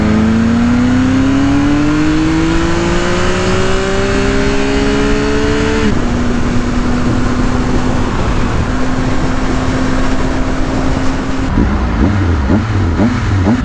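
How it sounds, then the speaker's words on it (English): A 2018 Triumph Speed Triple 1050 S motorcycle revs hard on a smooth road, its loud engine rising sharply in pitch, dropping at a gear change, then holding steady before another throttle blip, close and uninterrupted. "that never gets old, revving this bike"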